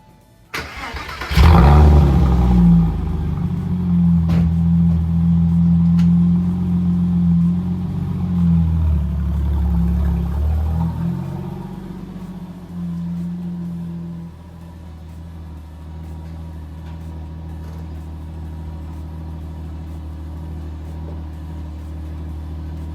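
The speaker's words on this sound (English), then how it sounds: "Cold startup on a, well, mildly straight piped Porsche Boxster." A mildly straight-piped Porsche Boxster fires up from cold with a sharp crank and loud bark, then settles into a steady, rumbling high idle that drops lower partway through and keeps running alone.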